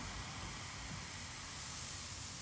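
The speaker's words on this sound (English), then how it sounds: "sizzling from the water vaporizing" Water sizzles into steam with a dense, continuous hiss that stays loud and even throughout.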